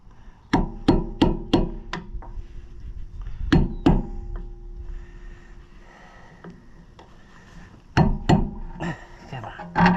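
A hammer strikes parts onto a trailer tire in sharp, loud metallic-wooden whacks, a rapid burst of five or six, then a pair, a lone hit and another pair, with people talking between the blows.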